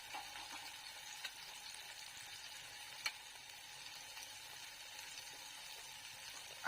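Eggs frying with tomatoes in a pan, a soft steady sizzle with faint stirring and an occasional light tap of a utensil, no voice.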